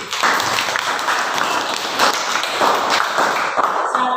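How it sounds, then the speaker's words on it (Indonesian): Students in a junior high classroom clap together, a close, fairly loud burst of uneven hand claps lasting several seconds with no talking over it. "berikan tepuk tangan dulu"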